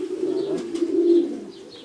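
Soft, low pigeons cooing in a steady rolling murmur nearby, with faint chirps higher up and no voices.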